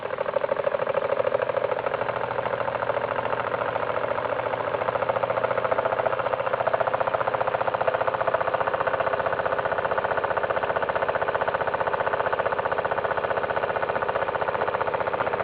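A small model steam engine, a hybrid built from two engines, runs steadily with a continuous mechanical chugging hum, even and unbroken throughout, fairly close and loud.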